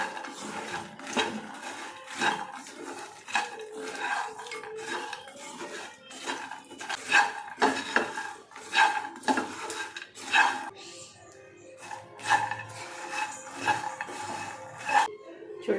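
A spoon scrapes and clatters steadily through a pan of makhana fry with peri peri masala and turmeric, stove off, repeated rhythmic scraping strokes close by and moderately loud, with no talk.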